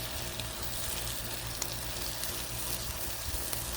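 Steady, faint crackling sizzle of wieners frying in oil on a Blackstone griddle at night, a continuous hiss with occasional small pops and no talking.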